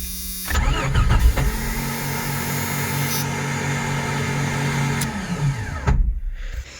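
A 1989 Jeep XJ engine turns over as its starter motor, fitted with new brushes, cranks for about five seconds in a steady low churning drone, then stops abruptly, leaving a brief fainter rattle after.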